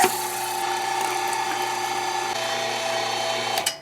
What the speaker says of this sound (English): through the grinder we go